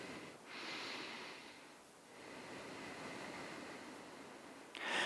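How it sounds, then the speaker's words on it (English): Slow, soft breathing during a standing yoga balance pose, heard as long airy inhales and exhales close by, gentle and faint, with a sharper breath at the end and no talking. "Just 2 more breaths"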